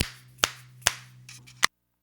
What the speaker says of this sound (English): Let's get a few finger snaps